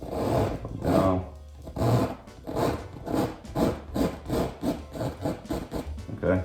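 A tool scrapes oil paint off a canvas in rhythmic back-and-forth strokes, close and fairly loud, about a dozen passes that grow quicker toward the end.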